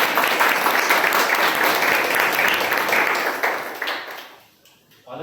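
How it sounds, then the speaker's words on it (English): A room of club members at a Toastmasters meeting gives a guest a dense round of applause that carries strongly, then fades out quickly near the end. "Can you have a round of applause for our guest?"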